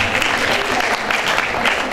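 Dense audience applause fills a seminar hall at a university extension event, steady and continuous throughout with no break.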